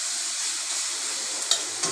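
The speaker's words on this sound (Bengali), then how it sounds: "এই পেঁয়াজ রসুন আর নুন একবারে দিয়ে দিলাম, এই ভাজা হচ্ছে" Onion, garlic and salt frying in a pan give a steady, close hiss and crackle, with a couple of sharper spits near the end and no voices.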